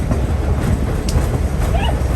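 A Tennessee Valley Railroad passenger train in Chattanooga crosses a bridge over the Western and Atlantic Railway, producing a loud, steady, close rolling rumble with faint wheel noise.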